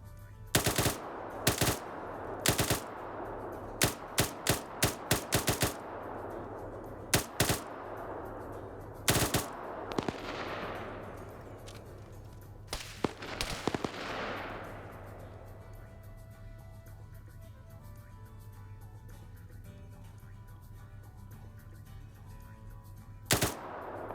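Gunfire from units in a PvP strategy game match, sharp shots and rapid bursts in irregular clusters, with a couple of longer rushing blasts in the middle and quieter scattered shots later.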